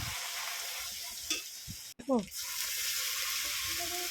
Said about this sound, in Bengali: তিন চামচ দিয়েছি লঙ্কা বাটা আর দু চামচ হলুদ দিয়ে খুব সুন্দর করে কষিয়ে নেব